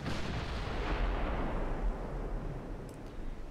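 Heavy naval secondary guns firing in the warship game Ultimate Admirals: Dreadnoughts, a loud booming blast that rolls into a long, rumbling decay, with no talk over it.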